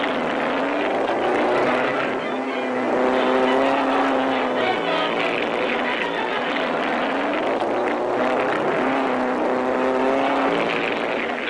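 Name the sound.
race cars speeding around track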